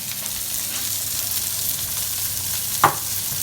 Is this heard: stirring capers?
yes